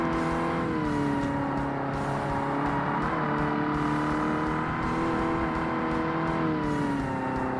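An American muscle car engine in the 2005 Xbox racing game Forza Motorsport, droning steadily and rising and falling with throttle and gear changes, a continuous in-game engine sound with no voices.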